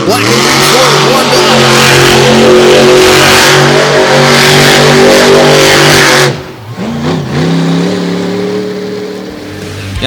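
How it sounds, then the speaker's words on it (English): Black and green Ford pulling truck at a truck pull in Gilbert, PA, its engine roaring loud and steady near the track, with a sharp drop and recovery in revs partway through, and an announcer talking over it. "Snyder working the track in the black and green Ford warmed"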